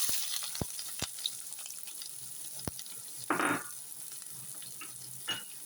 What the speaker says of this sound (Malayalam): നമ്മളെ സവാള ഇടാം